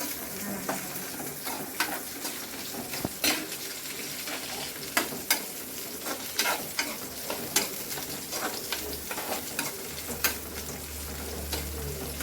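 Onions frying in a pan for pepper chicken, a steady sizzle broken by frequent sharp scrapes and knocks of a spatula stirring, close and moderately loud.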